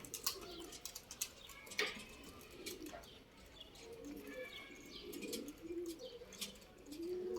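Pigeons gathering near a building give soft, rolling coos, repeated through the scene at moderate distance, with scattered chirps and a brief flutter mixed in.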